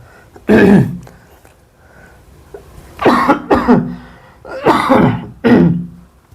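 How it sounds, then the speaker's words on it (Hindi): A series of close, raspy coughs in short bursts: one, a pause, then a pair, then another pair, with quiet gaps between. "माफ़ कीजिएगा, थोड़ा खांसी हो गया है।"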